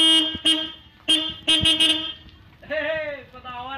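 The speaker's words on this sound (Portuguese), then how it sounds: "Ô Henrique, buzina aí, mano." Horn of a small mini truck on a town street, sounding several short loud toots followed by a longer wavering blast, with voices talking nearby.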